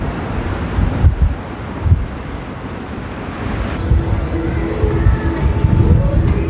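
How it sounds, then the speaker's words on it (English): Strong wind gusts over Central Pier facing the Irish Sea, roaring and buffeting the microphone. Faint surf and distant crowd murmur sit underneath. "Oh, it's so windy up here in the pier."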